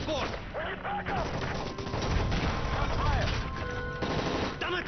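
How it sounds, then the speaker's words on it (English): Rapid bursts of automatic gunfire rattle continuously amid game effects and shouted voices during a plane hijacking in Modern Warfare 3, loud and busy from start to finish. "That's gunfire! Hijackers are taking the plane!"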